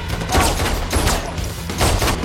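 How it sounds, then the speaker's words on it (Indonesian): Gunfire in a John Wick 4 fight scene, a dense, loud barrage of overlapping shots and blasts filling the whole moment with no pause. "John bersama Akira pun bekerja sama menghabisi orang-orang itu dengan senjata yang mereka miliki."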